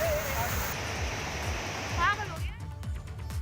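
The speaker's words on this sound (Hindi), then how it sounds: "पानी का तेज बहाव यहाँ आसपास के लोगों को डरा रहा है।" Floodwater in a swollen river rushes with a continuous roaring hiss, like a waterfall. A voice is briefly heard over the steady torrent.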